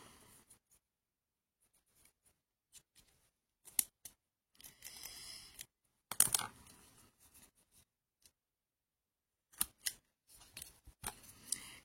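Scattered crisp clicks and snips of a punch making holes in glue-damp scrapbooking paper, coming in short irregular bursts separated by quiet pauses, close up.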